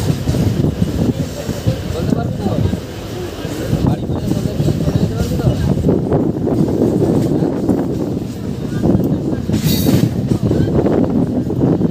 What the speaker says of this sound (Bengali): ট্রেন তার ট্র্যাক চেঞ্জ করে সিঙ্গেল লাইন থেকে চলে আসছে ডবল লাইনে।